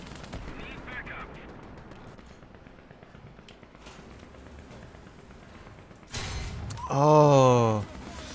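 In the War Thunder game, an M48A1 Patton tank fires a single loud, abrupt cannon blast after a stretch of low engine rumble. A rising tonal whine follows the shot.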